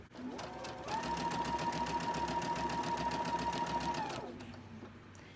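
A sewing machine runs steadily for about three seconds while stitching a quilt block seam, its motor whirring loud and close with a fast mechanical rhythm before winding down and stopping.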